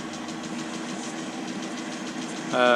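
A warmed-up Land Rover Series 3 engine runs at a steady idle, a continuous close mechanical drone with a brief louder clunk near the end.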